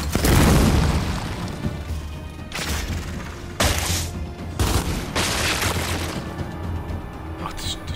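Dropshot weapon in the Gears 5 video game firing and exploding in a loud, dense barrage of booms and cracks, with several sharp bursts spaced a second or so apart, under a low steady drone.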